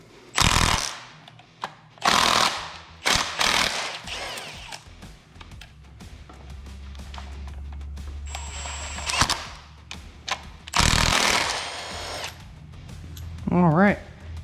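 An impact wrench hammers bolts tight on a 7.3 Powerstroke engine during rear main seal and oil pan work, firing in several short loud bursts with a steady hum in between and someone talking in the gaps.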